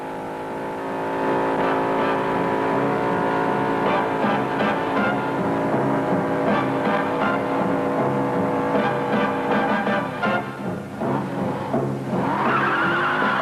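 A red 1968 Jaguar XKE on a road test drifts through a corner under throttle, its engine droning loud and steady with tires squealing and skidding, the pitch wavering and rising near the end.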